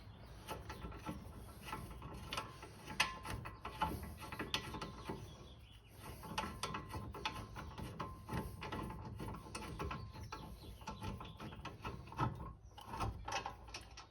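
Ratchet wrench loosening stiff brake caliper bolts on a Honda Fit during a front brake pad replacement, a steady run of close mechanical clicks and rattles with short pauses, no talking.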